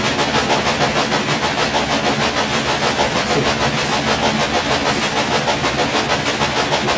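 A steam train from the Railway Empire game rolls along a newly built rail line, with a steady, continuous rumble and rhythmic clatter that stays loud and even throughout, alone without any talk.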